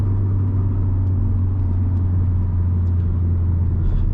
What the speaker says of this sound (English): Pushing the pedal, the car makes a lot of noise, the diesel engine